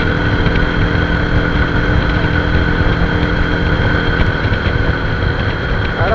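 A motorcycle being run in during its first 1000 km, its engine droning steadily and fairly loud as it slows for a roundabout and works down through the gears, with a constant rumble of road and wind noise underneath.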